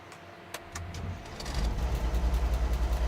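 A truck engine in the Alaskan Road Truckers video game cranks over and catches, rising from a quiet start into a steady, loud rhythmic idle that pulses evenly until the end.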